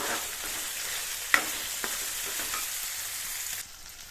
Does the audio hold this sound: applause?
no